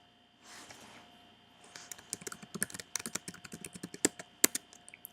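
Quiet, close keystrokes on a computer keyboard as a username is typed to log in, an irregular run of crisp clicks after a brief soft rustle.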